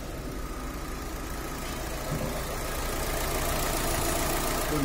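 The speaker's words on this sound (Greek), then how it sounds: "Μπορεί να ακούσετε ο κινητήρας δουλεύει και δεν ακούγεται τίποτα." A 2017 Fiat 500 engine idles smoothly at close range, a steady low, even rumble that holds constant throughout without revving, no voices over it.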